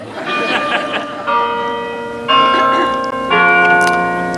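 A large bell rings out in several successive struck tones, each blooming and sustaining its metallic hum at a campus unity gathering, loud and clear with no voices over it.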